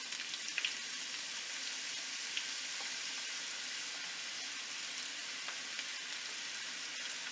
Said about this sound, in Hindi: सबसे पहले हमने इसमें कुकिंग ऑयल डाल देना है आधा कप। और साथ ही हमने प्याज डाल देने हैं 2 अदद